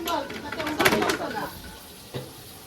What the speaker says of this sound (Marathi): कांदा गेलेला आहे तेलात